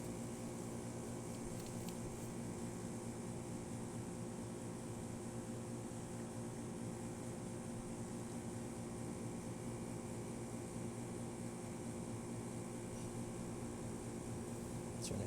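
A Rancilio Silvia espresso machine pulls a test shot, its pump giving a steady, even hum with a faint continuous buzz throughout, close and unbroken.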